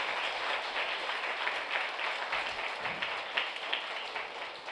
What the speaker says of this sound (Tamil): நாம் கைத்தட்டி நம்முடைய நன்றியை தெரிவிப்போம்